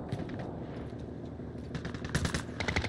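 Rapid automatic gunfire from the Call of Duty Warzone shooter, crackling in dense bursts through most of the stretch and growing louder and busier toward the end, with a steady game background underneath.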